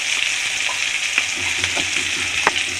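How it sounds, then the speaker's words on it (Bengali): Spice paste frying in a pan for mourola fish tok with black mustard and green chili, a steady close sizzle broken by soft clinks and scrapes of stirring, with no talk. "মশলাটাকে ভালো করে কষিয়ে নেব।"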